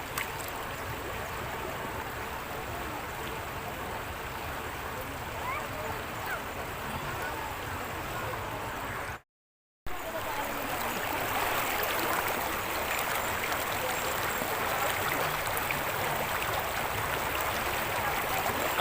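Steady rushing water of the Daraitan River in the Philippines fills the scene, loud and continuous, briefly cutting out midway before resuming.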